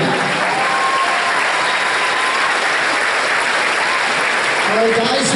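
Loud, continuous clapping from the crowd at a youth lacrosse championship awards ceremony, dense and steady for several seconds, with faint voices and a high tone near the end.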